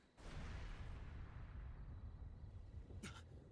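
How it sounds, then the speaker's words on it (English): Explosion in a video game: a sudden deep boom that rolls into a long rumbling decay, loud and close, with a brief sharp crackle near the end and no talk. "What was that explosion?"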